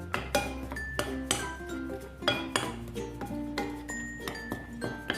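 A spoon stirs a cireng nugget mixture seasoned with pepper and stock powder in a bowl, giving repeated sharp clinks and scrapes in an uneven rhythm, close and clear.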